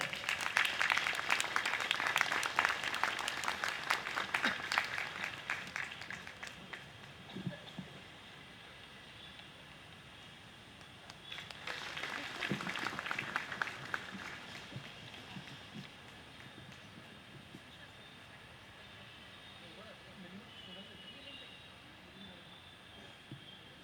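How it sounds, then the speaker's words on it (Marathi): Sustained applause from a lecture series audience, loud at first, fading, then a second burst of clapping before tapering off into a quieter room. "एकदा जोरदार टाळ्या वाजवूया."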